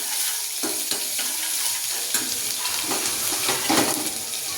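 Garlic with mustard seeds, cumin and asafoetida fries in hot oil, a dense continuous sizzle close by with scattered crackles and soft stirring clinks.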